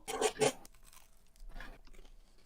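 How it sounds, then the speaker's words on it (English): Crunchy, chewy Finnish candy is bitten into with two loud close crunches, then quieter wet chewing follows at a slower pace, with no talking. "it has a certain crunchiness to it. At the same time, it's very chewy"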